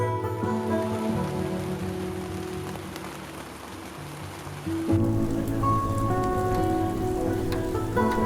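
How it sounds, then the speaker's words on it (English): Heavy rain pours on a hiking route in Corsica near Zicavo, a dense continuous patter with hard drops striking nearby surfaces, growing louder partway through. "Heavy rain drove me off going to the restaurant in Zicavo"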